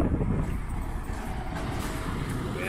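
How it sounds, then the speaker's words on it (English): Strong outdoor wind buffets the microphone with a constant low, rumbling roar that holds steady throughout. "Much too windy to record anything, I think."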